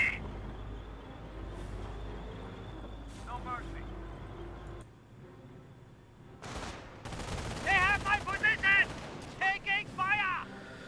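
A forward machine gun fires in the video game Company of Heroes, sounding as rapid rattling bursts amid other battle noise, with someone talking over the first half.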